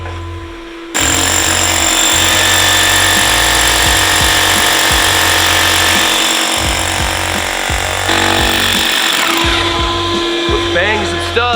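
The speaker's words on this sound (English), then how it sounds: "DJ's broken ass drill is rattling my wrist loose." A loud, rattling power drill in a shop hammers studs, running in long continuous bursts with clanking metallic knocks underneath and short breaks between runs, close and harsh.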